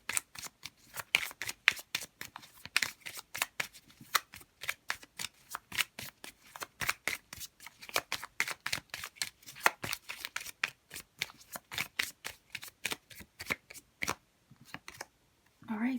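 Tarot cards being shuffled for a reading, a fast run of crisp rhythmic riffling snaps close to the mic, continuing evenly before a brief pause at the end.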